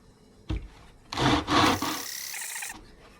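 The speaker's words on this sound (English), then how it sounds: "And you can see we're starting to sand" Guitar sides are sanded against a 12-inch radius dish, giving a few rough, scraping strokes of wood on abrasive. The strokes come in short bursts, moderately close, with no talking.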